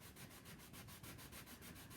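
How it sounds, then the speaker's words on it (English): Light sandpaper strokes over painted lettering on a cattle tag, a steady quick rhythmic rubbing at close range, soft and even, no talking. "So I'm just lightly sanding this just to distress the lettering a little bit"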